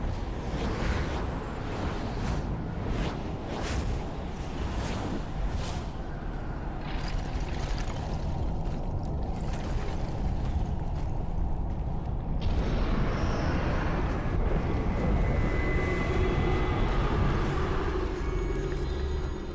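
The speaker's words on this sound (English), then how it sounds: "very little cover and a bunch of obscuring wind" Obscuring wind in the game Sky: Children of the Light, a dense, rushing gust with creaks and rattles that holds loud and constant, with a sharper whooshing swell in the later part.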